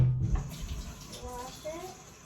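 Tap water runs steadily while a whisk is washed in a home kitchen, with a soft clink at the start and a voice speaking briefly over the flow.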